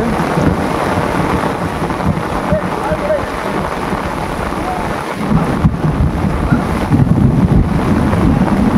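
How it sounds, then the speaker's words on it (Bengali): Heavy rain and wind roar over a river in the Sundarbans, with low rumbling thunder swelling beneath the constant hiss, while a voice speaks faintly under the storm. "বাজ পড়ছে।"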